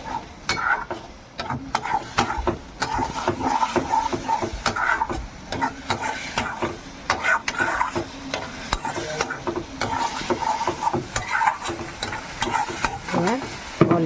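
Raw jackfruit with spices fries in a pan while a utensil stirs it constantly, giving a dense sizzle broken by irregular scraping and clattering strokes, close and loud throughout with no talking.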